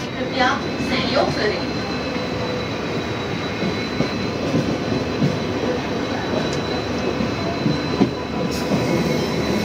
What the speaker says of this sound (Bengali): আমাদের পাশ দিয়ে ঠিক হাওড়া জংশনের দিকে এগিয়ে যাচ্ছে দুরন্ত এক্সপ্রেস